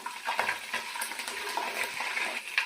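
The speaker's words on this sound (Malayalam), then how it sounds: "തേങ്ങാക്കൊത്ത് ബ്രൗൺ കളർ ആവുന്നവരെ നമുക്ക് ഇളക്കി കൊടുക്കാം" Coconut pieces sizzle in hot oil for a Kerala beef curry while a utensil stirs and scrapes them around the pan, a continuous close frying hiss broken by light clinks.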